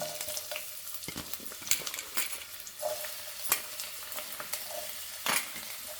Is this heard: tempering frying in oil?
yes